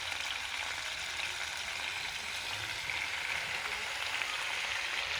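Spinach leaves added to a hot frying pan while cooking a Bengali chorchori, giving a steady, soft sizzle and crackle that runs evenly throughout with no voices.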